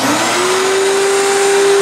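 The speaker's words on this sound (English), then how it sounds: "we got this almost brand new vacuum right here. A vac cleaner." A Eureka Mighty Mite vacuum cleaner runs with a loud, steady whirring roar and a rising motor whine that settles into a constant pitch, close by with no talk.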